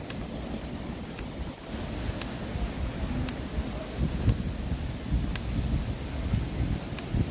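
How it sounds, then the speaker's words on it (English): Waterfalls of the MLK fountain in San Francisco, a steady broad rush of falling water heard from a short distance, with wind buffeting the microphone. "The MLK fountains? Yes, very nice waterfalls"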